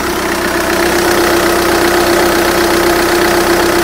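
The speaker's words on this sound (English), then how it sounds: "Well, it's obviously the diesel rattle." A 2.0 diesel engine in an Audi A3 Cabriolet idles close by, a steady loud drone with a constant hum and the rapid clattering knock of diesel rattle running evenly throughout.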